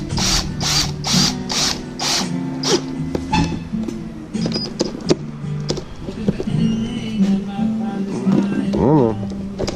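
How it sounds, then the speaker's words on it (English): A power drill with a big bit whirs in short bursts up close, with grinding and mechanical rattling as it bores into a seat for a safety switch, interrupted by brief pauses. "Big drill bit. Catch a corner here."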